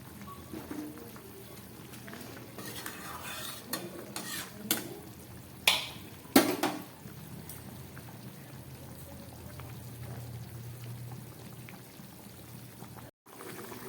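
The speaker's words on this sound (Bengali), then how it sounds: "মাছের ঝোলটা ফুটে উঠেছে এবার আমি এই ভেজে রাখা মাছগুলো এর মধ্যে দিয়ে দিচ্ছি" Fried fish pieces go into a boiling fish curry broth, giving soft splashes and a burst of sizzling and clatter midway, over a quiet steady bubbling simmer.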